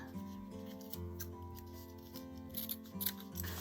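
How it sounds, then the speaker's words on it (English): Short, close scissor snips trim craft material for a Christmas bauble, a few crisp cuts over a faint steady musical background with no talking. "I'm going to snip it off even shorter"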